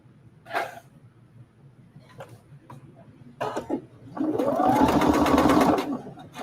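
A sewing machine stitches a pocket onto denim jeans in a steady whirring run of about a second and a half, close and fairly loud, after a few quiet clicks and a brief cough.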